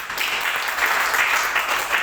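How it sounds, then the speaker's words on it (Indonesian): A church congregation applauds during a sermon with brief, steady, moderately loud clapping and no one speaking over it. "Berikan tepuk tangan."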